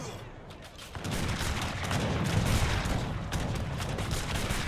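Organ guns firing in an Age of Empires III team battle, a dense rumbling fusillade of rapid volley shots that swells after a quieter opening and keeps rolling steadily amid distant battle noise.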